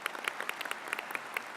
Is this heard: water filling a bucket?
no